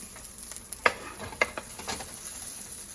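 A southwest chicken rollup fries quietly in a pan, a soft steady sizzle broken by a couple of brief clicks and taps of a utensil as it is turned, faint and close with no voices.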